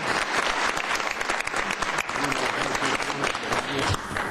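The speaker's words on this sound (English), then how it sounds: "Let's give all of them a big round of applause." Applause from a council meeting audience, a loud, dense burst of clapping that lasts throughout.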